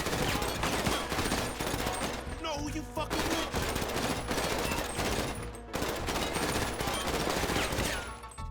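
Dense, continuous gunfire from several weapons aimed at a tank in Grand Theft Auto V, rapid overlapping bursts filling the whole stretch with only brief dips.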